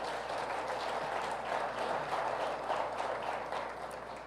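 A church congregation at a celebration service claps together in a dense, continuous wash of applause that fills the room, steady and moderately loud, with no voices standing out.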